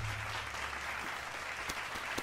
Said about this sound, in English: Let's give it a clap up